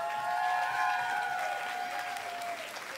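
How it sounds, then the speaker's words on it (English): An audience at a live music event applauds the bar staff, steady clapping with a sustained high tone ringing over it for about three seconds before tapering off. "let's give the bartenders back there a big round of applause if we could"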